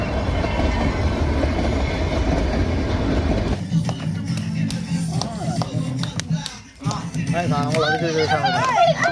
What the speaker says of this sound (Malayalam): പ്രത്യേകിച്ചുള്ളതാണ് നമ്മുടെ ഈ ടോയ് ട്രെയിൻ